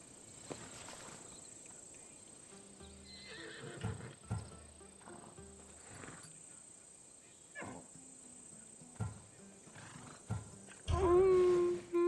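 Horse in the Assassin's Creed Odyssey video game, giving scattered hoof clops and snorts, then a loud, close whinny near the end.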